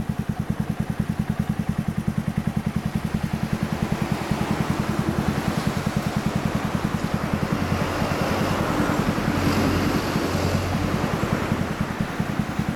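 Fully customised 2014 Honda Grom 125cc motorcycle fitted with a Moriwaki exhaust, idling steadily nearby with a rapid, even thumping pulse and a slight rise in revs partway through, with no talk over it.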